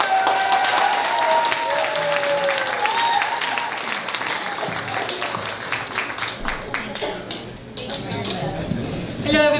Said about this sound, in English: Give her a nice round of applause, Miriam Mintz.